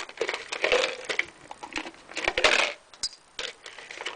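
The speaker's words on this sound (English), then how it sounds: "Put the calipers back on." Metal brake calipers being handled and fitted back onto a 2001 Ford Ranger front wheel hub, giving a run of close clinks, scrapes and sharp metallic knocks with brief pauses, no talk.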